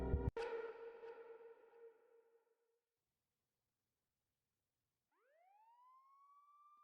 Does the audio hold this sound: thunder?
no